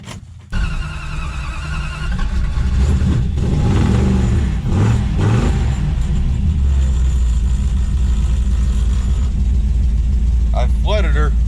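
A Dodge Dart's engine cranks and catches, then roars through loud revs before settling into a rough, rumbling idle close by, with a voice speaking briefly near the end.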